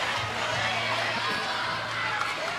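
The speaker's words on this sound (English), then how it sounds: "Crowd is into it. You got about 900 people in and around this ballpark tonight." Steady murmur of a Little League World Series ballpark crowd of about 900 at night, a broad wash of chatter and cheering with a voice talking over it.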